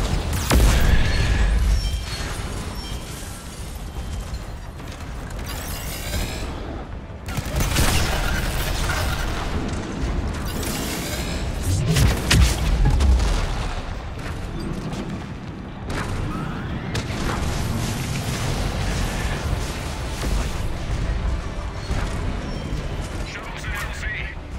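Rocket launches and explosions in a video game, a dense run of heavy booms and blasts over rumbling low end, with several loud bursts spread across the stretch and voices talking underneath.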